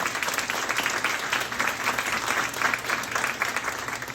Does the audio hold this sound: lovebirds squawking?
no